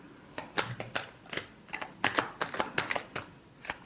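Tarot cards shuffled by hand during a love reading, giving a string of quiet, irregular riffling snaps and flicks close by, with no talking over them.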